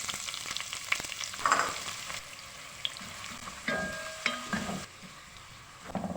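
Onions frying in a pot for vegetable pulao give a soft, continuous sizzle, with occasional scraping stirs and clinks of a utensil against the pot, fairly quiet and close, with no voices.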